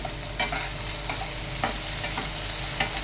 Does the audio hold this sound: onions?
yes